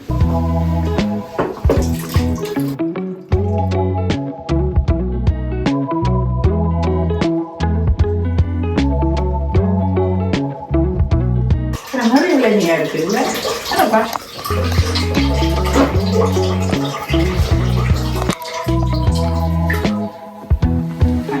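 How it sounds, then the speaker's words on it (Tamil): Fresh tender coconut water poured straight from the coconut into a container, a steady splashing rush lasting several seconds, partly masked by loud background music. "இந்த இளநியை இதுக்குள்ளே டைரெக்டாகவே விடுறேன்."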